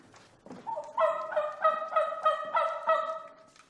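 Wild turkeys gobble nearby in a loud, rapid, warbling rattle of repeated pulses lasting a few seconds, with no talk.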